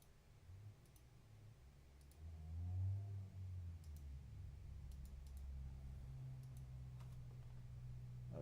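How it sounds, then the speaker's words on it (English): Faint, sparse typing on a computer keyboard, scattered light clicks in short bursts over a low background hum, quiet and somewhat distant. "oh, he's typing something."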